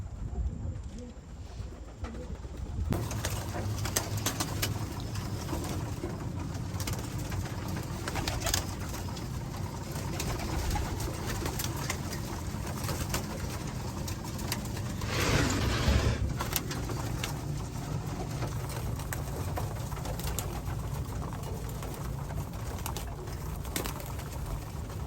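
Racing pigeons in a loft coo and call steadily throughout, close by, over a constant broadband hiss, with a slightly louder rustling burst about two-thirds of the way through.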